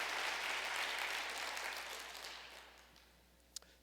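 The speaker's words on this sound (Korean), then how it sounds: "크게 박수로 우리 격려해 주시기 바랍니다" A church congregation applauding children, a broad burst of clapping that slowly fades out over a few seconds, ending with a single sharp knock.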